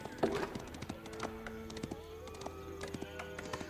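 Horses in Age of Empires 4, played as the Mongols, give clip-clop hooves and short whinnies among game sound effects, faint and layered under a voice talking in Portuguese.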